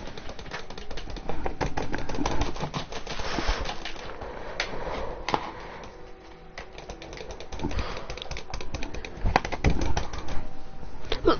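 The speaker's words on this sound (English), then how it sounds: "listen to how satisfying my keyboard is" Someone types on a keyboard: a dense, fast stream of clacking keystrokes runs steadily for several seconds, loud and close, with occasional heavier hits and no talk.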